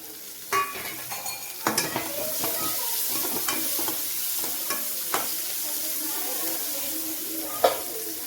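Spring onion frying in oil with chili and garlic sizzles in a constant hiss, punctuated by sharp clicks and scrapes of a utensil stirring the pan.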